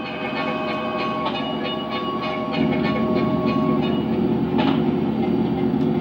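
A train loaded with logs rolls along in GTA San Andreas, giving a loud, steady rumble with rhythmic clacking of wheels over the rails, close and continuous throughout.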